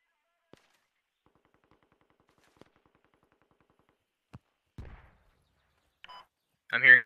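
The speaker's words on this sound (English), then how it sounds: "I'm hearing gunshots right up this hill south." Sparse, sharp bursts of distant gunfire in the video game Squad, a few isolated shots then a short louder crackle near the end, amid long stretches of near silence.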